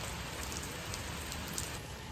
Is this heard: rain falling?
yes